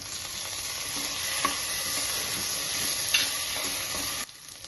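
Tomato goes into a pot of sizzling Kongu-style rice and dal, a steady close frying hiss with a few soft stirring clinks before the sizzle suddenly drops away near the end.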